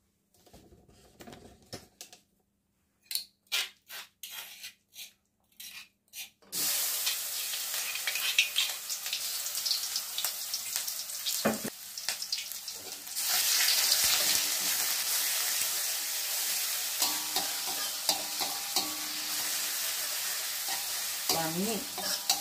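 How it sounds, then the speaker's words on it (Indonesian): Ground shallots and garlic hit hot oil in a pan with a sudden loud sizzle after a few quiet clicks and taps, then steady crackling frying and scraping stirring continue, growing more intense partway through. "Bawang merah sama bawang putih yang tadi dihaluskan, nggak apa-apa ya, nggak begitu halus ya. Ini ya kita goreng."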